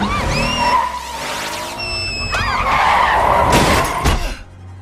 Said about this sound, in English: they get into a car accident.